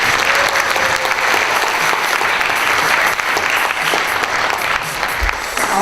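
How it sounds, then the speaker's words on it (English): Audience at the 2019 Miss Armada pageant applauding the contestants, a loud, sustained burst of clapping that stays full and even throughout. "One big round of applause for all of these girls."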